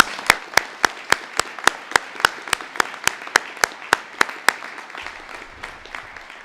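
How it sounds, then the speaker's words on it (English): About twenty loud, evenly spaced claps ring out at a Veterans Day ceremony, a steady rhythm over a thin spread of crowd clapping behind them. "Please give her a round of applause."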